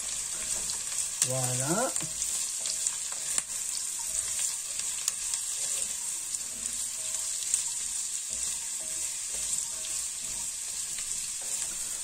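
Carrots and winter vegetables sizzle steadily in hot oil in a pan for a ratatouille while being stirred, a constant frying hiss with faint scraping, and someone speaks briefly.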